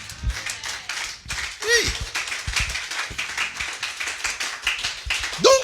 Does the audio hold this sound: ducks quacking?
no